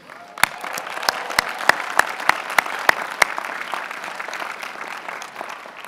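An audience at a Carnegie Mellon 2014 commencement ceremony applauds steadily, with a dense wash of clapping and a few sharp, loud claps standing out before it slowly thins.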